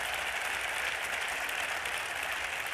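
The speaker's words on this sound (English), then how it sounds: "Give yourself a round of applause for being here." Audience applause at a football coach's introductory press conference, a steady wash of clapping from a roomful of people, fairly faint and even throughout with no talking.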